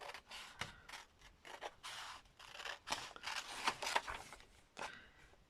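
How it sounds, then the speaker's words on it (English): Scissors snip through paper for a mood board in a quiet room, a series of short crisp cuts in an irregular rhythm, close and soft, with no talking. "can I just cut this straight, please?"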